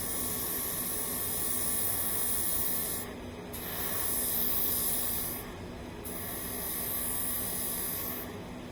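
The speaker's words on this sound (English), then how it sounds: "So you see when you pull back on it, it sprays." A Pelcas rechargeable airbrush running off a small 32 psi compressor sprays water in three long, steady hissing bursts, each cut by a brief pause.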